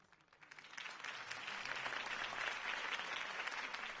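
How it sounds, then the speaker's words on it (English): A steady wash of clapping from a large crowd in a Batman video game builds quickly and holds at an even level, with no voices standing out. "could have heard that applause"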